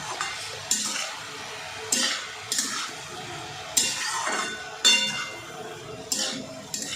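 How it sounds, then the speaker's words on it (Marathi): Cabbage and tomato are sautéed in a pan, and a utensil scrapes and clinks against the metal in regular strokes about once a second over a soft sizzle, fairly close, with no talk. "आता हे छान परतून घ्यायचं आहे आपल्याला कोबी टमाटा जास्त शिजवून घ्यायचं नाही"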